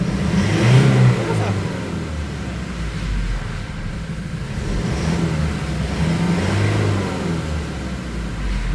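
A Toyota Innova with a 1GD diesel engine and a power-loss fault idles and revs in repeated swells, mid-pitched engine noise rising and falling under intermittent nearby talk.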